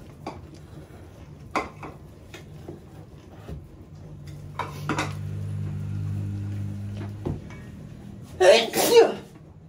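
A quiet room with scattered clinks and soft sounds, then a sudden loud sneeze bursts out near the end.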